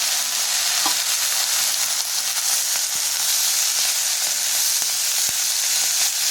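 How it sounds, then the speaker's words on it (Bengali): Spinach and green chilies being stirred in a hot pan, a steady bright sizzle with scattered scraping taps from the spoon, close and continuous with no talking. "তো এরপর দিয়ে রাখা শাকটাও দিয়ে দিলাম। নাড়াচাড়া করে নিতে হবে একটু।"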